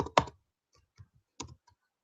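Someone typing a web address on a computer keyboard: a couple of sharp close clacks, then a few sparse, soft key taps in an otherwise quiet room.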